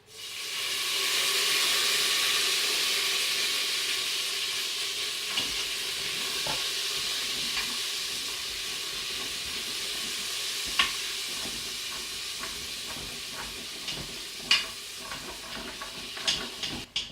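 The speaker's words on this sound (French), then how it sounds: "je prendrai mon vinaigre de cidre pour déglacer" Duck deglazed with cider vinegar in a Cookeo multicooker, giving a loud, steady sizzle and hiss that rises quickly and carries on, with scattered scraping and clinking of a utensil against the pot.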